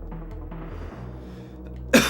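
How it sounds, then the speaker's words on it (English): A single sharp cough bursts out at the very end, close and loud, after a stretch of low electronic game music from Donkey Kong Country 2. "I'm coughing all over the place."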